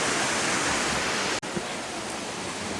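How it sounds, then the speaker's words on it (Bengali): A waterfall in Meghalaya pours with a constant broadband rush, steady and moderately loud throughout, with no voices. "আর এই যে ওয়াটারফলসটা অসাধারণ লাগছে, জলটা পড়ছে"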